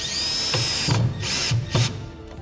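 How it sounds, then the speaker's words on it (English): A power drill drives screws into a surface-mounted GIB Ready Lock wall system, two close whirring bursts with the motor winding up and slowing, separated by short pauses and clicks. "I'm now going to screw this off at 300 centres."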